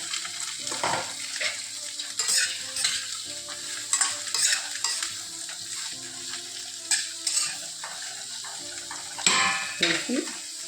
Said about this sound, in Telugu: ఇప్పుడు మనం కట్ చేసుకున్న ఈ క్యాబేజీని వేసేద్దాం